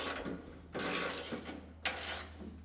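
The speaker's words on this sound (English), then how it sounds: "Now you can tighten all bolts on the extensions." Rapid ratcheting from a wrench tightening bolts on the extensions of a TWIN BUSCH clear floor car lift, in two loud, close bursts separated by a short pause over a low steady hum.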